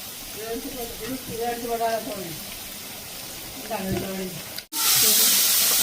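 Chicken kottu roti ingredients sautéing in a hot pan, a steady sizzle and hiss with stirring scrapes, and a sudden louder rush of sizzling near the end.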